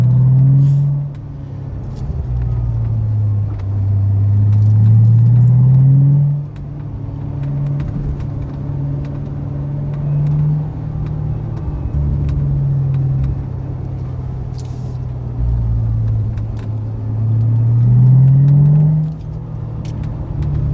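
A red 2014 Chevy Corvette Stingray with a manual transmission is driven hard on a road through greenery. Its loud engine repeatedly revs up and drops back through the gears in long, surging pulls, with no talking.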